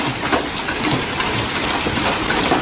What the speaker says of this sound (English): Huge hail beating the hell out of the Tahoe.